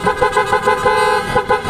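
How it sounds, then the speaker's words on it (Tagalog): A loud auto-style car horn on a Toyota Hilux honks in a rapid series of short bursts, close and piercing, with no talking. "So testing natin yung horn ni sir, kung gaano kalakas ang ating best seller na auto style horn."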